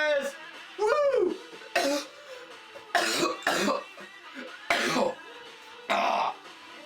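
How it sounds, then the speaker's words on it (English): A child coughs repeatedly, roughly seven short harsh bursts in an uneven rhythm, close and fairly loud with brief pauses between them. "Excuse me about that cough."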